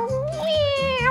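A person imitates a kitten, giving one drawn-out, wavering meow that rises and falls, close and clear with nothing else around it.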